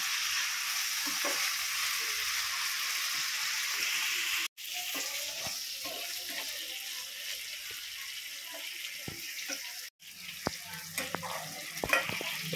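Cauliflower florets deep-fry for gobi fried rice, a continuous bubbling sizzle of hot oil with scattered pops and clicks, briefly broken twice, with occasional scraping near the end.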